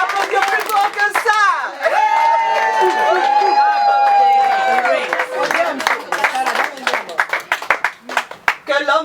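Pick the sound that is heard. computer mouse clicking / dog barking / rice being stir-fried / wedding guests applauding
wedding guests applauding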